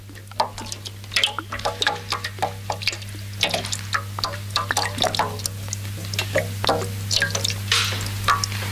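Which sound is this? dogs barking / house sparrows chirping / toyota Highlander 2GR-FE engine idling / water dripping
water dripping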